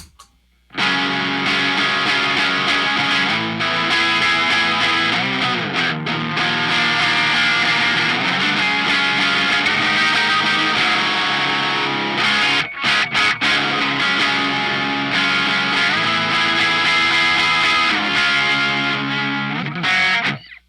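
A Fender amp's line out feeds the high gain input of a PV amp, giving a loud, sustained, distorted guitar tone that sounds bright and aggressive, with strummed chords ringing almost continuously.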